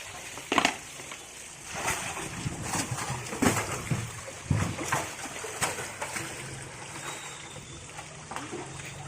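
Big fish dropped back into a village pond at Garbalia, landing with a few sharp, wet splashes and sloshing water against a steady outdoor background.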